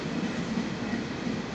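A semi-pilot rail car rolls through Milano Certosa station in the evening, a steady, continuous low rumble and rushing noise at close range with no break across the short stretch.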